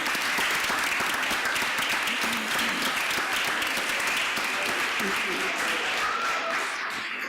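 Sustained applause from a large crowd at a Chicago Public Schools Board of Education meeting, a dense steady clatter of clapping that fills the whole stretch without pause.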